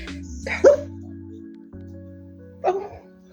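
A dog gives two short yips or barks about two seconds apart, close by in a quiet room with a low steady hum, near a sleeping newborn in a bassinet.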